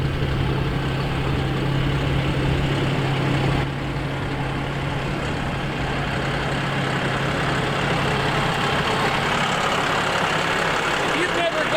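A heavy tractor engine rumbles steadily at close range, a low droning idle that shifts slightly partway through, with people talking over it.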